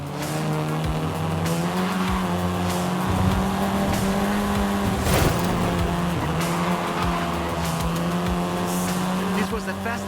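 A Volkswagen Golf R, the seventh-generation Golf, drives in Forza Horizon 5 with a steady engine drone, occasional tire squeal and gear shifts, while a voice talks over it.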